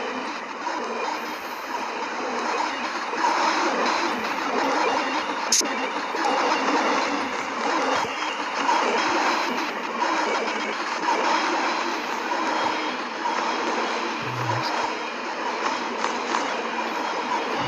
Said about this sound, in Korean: 기차에 한번 타보도록 하겠습니다